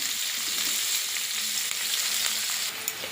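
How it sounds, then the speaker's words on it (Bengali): Chopped onions fry in hot oil in a wok, giving a continuous close sizzle with light crackling and a brief stirring scrape near the end. "পেঁয়াজটা ভাজা ভাজা করে নেব।"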